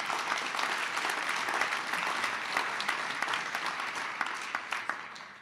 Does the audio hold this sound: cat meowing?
no